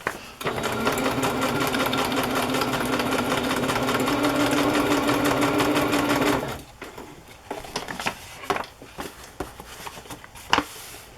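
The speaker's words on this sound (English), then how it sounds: "My sewing foot got hung up on a French knot." Sewing machine stitching through a decorated journal page with French knots, a steady loud mechanical whir for about six seconds, then stopping, followed by scattered soft clicks and handling sounds.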